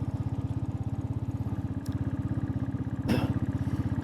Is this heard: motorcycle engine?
yes